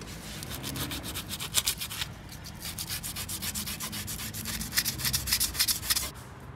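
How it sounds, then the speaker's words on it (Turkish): Rapid, steady scraping of sandpaper rubbing back and forth on a hard surface, removing old gasket residue from an Opel Astra H Easytronic transmission part, close up and continuous for several seconds. "zımparayla üstünü Eski conta temizliyoruz"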